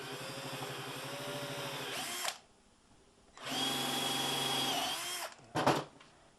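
A power drill driving a pilot bit into wood for pocket holes whines steadily in two long, loud runs, then gives a short final burst, each cutting off sharply between passes.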